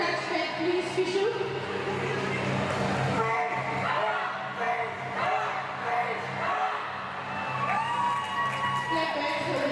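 An arena crowd cheers and shouts for competing teams, a loose, fluctuating roar of voices with whoops and scattered claps, while an announcer's voice talks over it.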